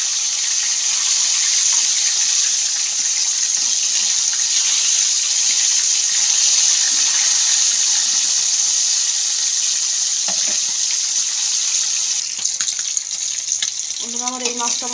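A continuous close sizzle of Bhola fish pieces frying in oil, an even hiss that holds throughout, with a faint voice and a few soft clatters near the end.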